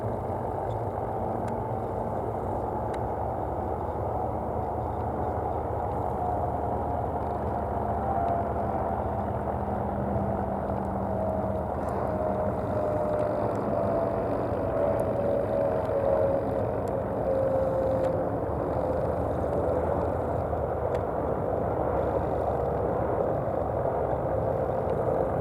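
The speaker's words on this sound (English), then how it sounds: "we've got a plane. Probably just come out of Stansted. So even an EasyJet is getting to be a bit more interesting" EasyJet passenger jet passing high overhead near Stansted, heard as a steady distant engine roar with a slowly falling whine, continuous over a background hum at an air show.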